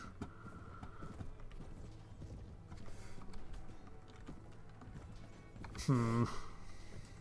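Horse hooves clip-clopping in the Mount and Blade: Warband Viking Conquest video game, a quick faint rhythmic patter under battle noise and a voice talking, with a brief louder tonal blast near the end.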